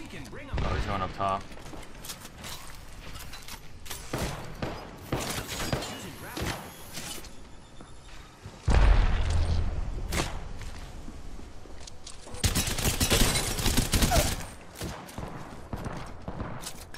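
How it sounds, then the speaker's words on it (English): Gunfire during an Apex Legends tournament match, with bursts of rapid shots and sharp impacts breaking out in several loud clusters amid game sounds and players talking over it. "Shots right there."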